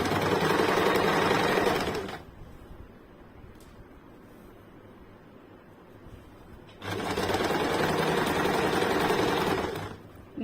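A sewing machine stitching a lined blouse runs in two steady bursts of rapid mechanical chatter, each about two seconds, separated by a quieter pause.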